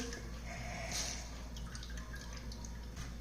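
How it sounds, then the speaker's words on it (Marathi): Faint, quiet dripping of water squeezed by hand from grated potato, over a low steady background hum, with a slightly louder splash near the start. "हा जो खिस आहे तो हाताने पिळून यातलं पाणी सगळं काढून घ्यायचं आहे"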